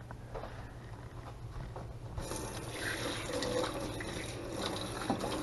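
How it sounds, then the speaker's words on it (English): Steady stream of water from a hose rinsing out the abdominal cavity of a cleaned salmon at a sink, continuous splashing and gurgling that grows slightly fuller partway through, fairly faint. "take the fish over to the sink and rinse out the abdominal cavity"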